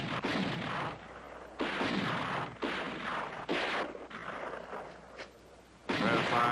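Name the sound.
artillery cannons firing in a war film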